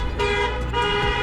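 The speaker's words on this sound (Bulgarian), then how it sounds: "Бипкат, хората ни бипкат." A passing car sounds its horn in a short, sustained honk with a few bright pulses, fairly close and loud above faint road noise.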